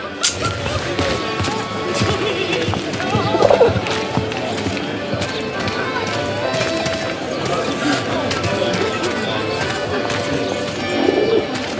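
Pigeons coo in a busy Paris street scene from the video game 11-11 Memories Retold, soft calls mixed into dense crowd ambience and murmuring voices throughout.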